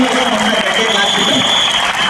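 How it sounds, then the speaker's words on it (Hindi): Audience applause at a family reunion gathering, loud and sustained, with a voice talking over it and a faint steady tone running beneath. "एक बार जोरदार तालियां"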